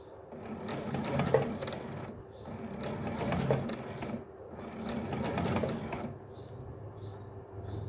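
A sewing machine stitches a fabric collar in three loud, steady bursts separated by short pauses, with a voice talking over parts of it.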